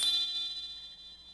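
A single bright school bell strike rings out at the start, signalling class, then its metallic tone slowly fades away.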